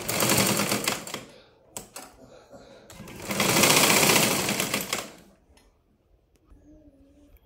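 A sewing machine stitches a blouse in two fast, rattling bursts with a short pause between them, then falls quiet while a voice talks softly.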